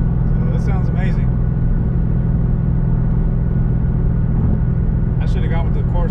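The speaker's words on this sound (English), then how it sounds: "That kind of the kind of sound that you expect from a muscle car, you know, from a V8" S550 Ford Mustang GT with a 5.0 V8 and Corsa Sport catback exhaust rumbles in a deep, steady idle close by, continuous throughout, with someone talking over it.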